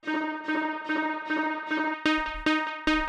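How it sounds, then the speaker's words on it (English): Plucked saw-wave synth line for a Eurodance track, run through delay and a subtle hybrid reverb; a steady repeating pattern of bright, sustained notes plays alone, with sharper, fuller hits entering near the end. "Then I got this little hybrid reverb."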